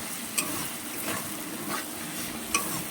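Potatoes and prawns with banana flower fry in a pan with a steady close sizzle, punctuated by a few sharp stirring scrapes and no voices.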